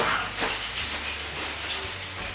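Chopped tomatoes fry in a pan for a simple pasta sauce, giving a steady, close, broadband sizzle and hiss with faint crackles and no voice over it.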